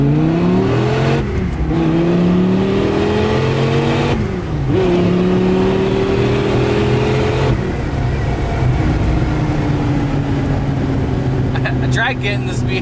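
An 800 whp Dodge Viper pulls hard in low gear, its loud, close engine note climbing steeply through several gears with brief dips at each shift, and voices are faintly present beneath the roar.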